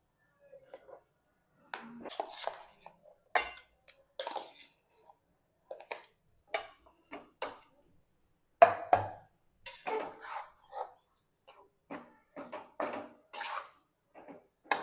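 Mashed potato being mixed into vada pav masala in a vessel, heard as close, soft, irregular squishy knocks and scrapes of a utensil, spaced by brief silences, no talking.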